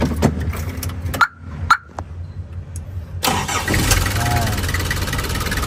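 A car engine cranks and catches partway through, then settles into a steady loud idle, with brief talk and shop noise beforehand; the car has a temperature issue.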